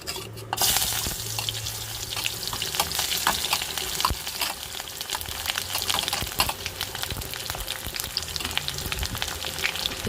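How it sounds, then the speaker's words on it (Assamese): Onions frying in hot oil in a wok with bay leaves and dried red chillies for a local chicken curry, a steady loud sizzle running unbroken from start to finish with no talk. "পিঁয়াজখিনি ভালদৰে ভাজি ল'ম।"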